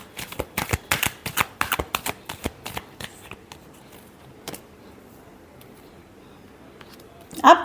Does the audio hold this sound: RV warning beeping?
no